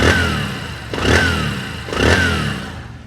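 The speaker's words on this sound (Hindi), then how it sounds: "तो ये है हमारी गाड़ी का साउंड।" A Bajaj Discover 125 motorcycle engine runs before repair, close by. It is revved three times in an even rhythm, each surge rising into a rough, clattery roar over a throbbing idle.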